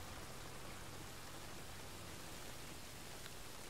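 Steady rain hisses as a soft, even wash of noise in the video game Metal Gear Solid V Ground Zeroes, faint and continuous with no talking.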